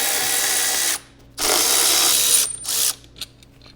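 Ratchet wrench backing Torx bolts out of a BMW R 1300 GS pannier rack, close and clear, with two bursts of rapid clicking separated by a pause, then a few lighter ticks.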